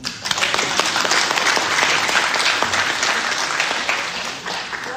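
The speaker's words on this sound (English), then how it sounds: "Round of applause." A class audience breaks into a round of applause, dense steady clapping from many hands that holds at an even level for the full stretch, with no voices rising above it.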